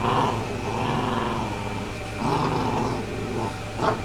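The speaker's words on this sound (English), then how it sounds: "Yes, the dogs I think they're killing each other." Dogs growl and snarl in a scuffle, a steady rumbling growl with sharper yelps and snaps surging near the middle and again near the end, fairly close and loud.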